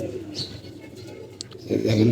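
Pigeons coo softly in a low murmur, with a brief chirp, before a louder burst of cooing swells near the end; faint human voice may sit underneath.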